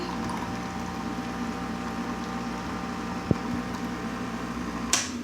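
Coffee machine dispensing coffee, a steady pump hum with a trickle of liquid pouring, close and moderately loud, with a couple of small clicks near the end.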